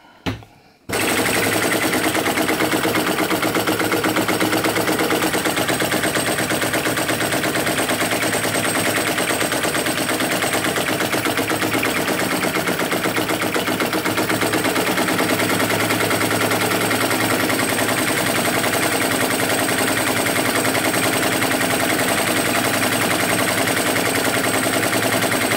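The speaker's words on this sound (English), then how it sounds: "Chinese flame licker, vacuum engine" A small Chinese Hu SH-02 vacuum flame licker engine starts after a brief quiet moment and then runs with a fast, steady popping chatter, loud and close, continuing evenly for over twenty seconds.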